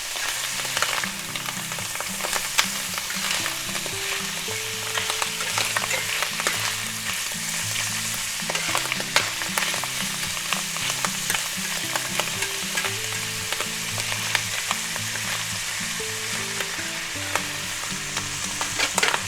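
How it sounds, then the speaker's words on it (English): Mushrooms stir-fry in a hot pan with a steady crackling sizzle, broken by repeated scraping and stirring strokes, close and continuous with no talk. "we want to kind of stir fry these or saute them until most of the moisture's out of them mushrooms"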